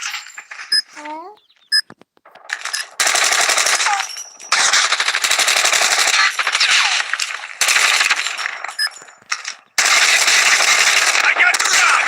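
Bursts of automatic gunfire in a clan war video game, several long sustained volleys separated by brief gaps, loud and close, with game radio calls and voices mixed in.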